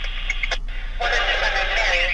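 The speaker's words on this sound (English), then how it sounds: "So just again, a lot of listening to scanners." Police scanner radio chatter heard inside a car, a short burst of crackly, band-limited dispatch voice followed by a steady hiss of radio static over a low constant hum.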